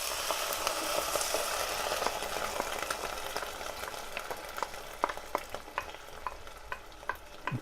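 Chopped tomatoes and onion fry in a pan with a steady, dense sizzle, broken by scattered sharp crackles and pops. The sound stays close and fairly loud throughout, with no voices.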